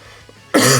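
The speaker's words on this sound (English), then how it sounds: "You'll have to excuse my cough." A single sudden cough bursts out loud and close after a short quiet moment.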